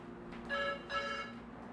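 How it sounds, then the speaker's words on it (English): A mobile phone rings nearby, two short bursts of a bright electronic ringtone over a quiet room, the first starting about half a second in. "Oh, my phone's ringing."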